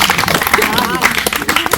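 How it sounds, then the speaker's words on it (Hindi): Applause from a group during an outdoor educational visit at a temple, a short burst of brisk clapping mixed with overlapping voices and chatter. "तालियां भाई इसके लिए"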